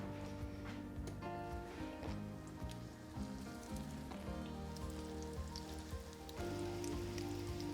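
Meatballs sizzle in a pan on a stove. A steady, dense crackle and hiss runs throughout, with a tonal hum beneath it.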